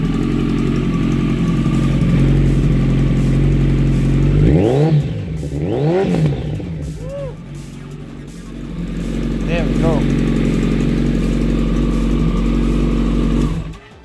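Kawasaki ZX14r sport bike fitted with a Brocks AH2 exhaust runs at a steady, loud idle, with a couple of quick throttle blips partway through before settling back and cutting off near the end.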